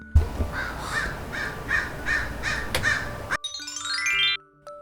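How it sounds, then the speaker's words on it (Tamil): A crow caws about six times in a steady, evenly spaced rhythm from a moderate distance, then a bright rising chime jingle follows. "காகம்,"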